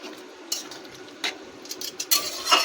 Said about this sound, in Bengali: দিয়ে একটু নাড়িয়ে নেবো দেখো এমন করে একটু নাড়িয়ে নেব